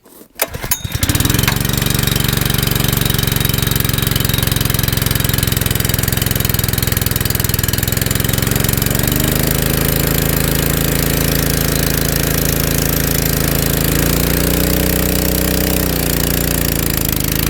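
A small Honda engine starts after a brief sputter and runs steadily, loud and close, with a rapid knocking hum that shifts slightly in speed.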